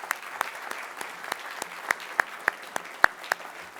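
Sparse scattered claps from an audience at an awards ceremony for two honorees, individual hand claps spaced irregularly rather than a full ovation, moderately close and with no talking.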